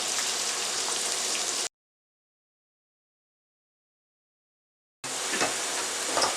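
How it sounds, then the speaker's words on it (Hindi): Chopped onions fry on full flame in a pan, giving a steady, close hiss and crackle that cuts out completely for a few seconds and then resumes with a few louder pops. "फुल फ्लेम पे मैंने तकरीबन 2 मिनट तक प्याज को फ्राई किया।"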